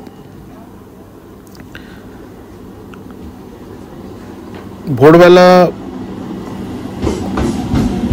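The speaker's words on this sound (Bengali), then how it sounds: "ট্রেন এই আসলো বললেই চলে" A Howrah–Kharagpur local train rumbles into a station and gives one loud horn blast of about a second, then keeps clattering closer; a voice speaks briefly.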